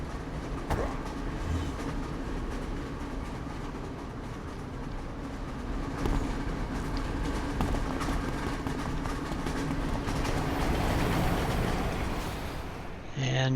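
A train ride in the online superhero game City of Heroes, heading to Kings Row: a steady, close rumble of rolling carriages with rhythmic clickety-clack over the rails, and a voice audible at times over the noise.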